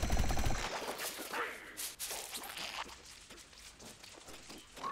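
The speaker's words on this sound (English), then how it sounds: "I'm getting shot at by some cop here. He's shooting at me." A cop firing a gun at the player in a video game: a quick volley of shots at the start, then scattered sharper cracks fading into quieter background activity.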